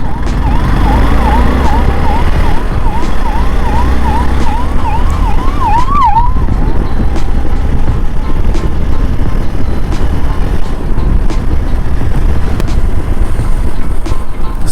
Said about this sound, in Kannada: ಆಂಬುಲೆನ್ಸ್ ಬರ್ತಿದೆ.